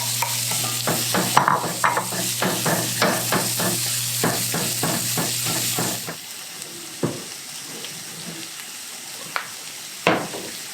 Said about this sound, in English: We're gonna take the sausage out and saute or caramelize, I should say, our onions.